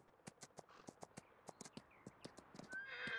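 A horse in a video game clip-clops with steady, crisp hoof steps close by and finishes with a bright, clear neigh at the end.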